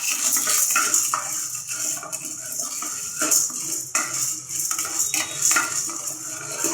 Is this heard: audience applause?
no